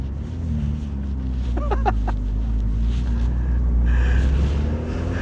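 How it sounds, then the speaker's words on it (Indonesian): A 2023 Ferrari 296 GTS with its roof open, heard from inside the car as a low engine drone under heavy wind rush, with a brief voice partway through. "itu kita jadi bisa menikmati suara mesinnya"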